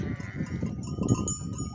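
A goat kid wearing a bell bleats close by, out on a rainy-morning farm with sheep, its wavering cries running over faint jingling bell tones.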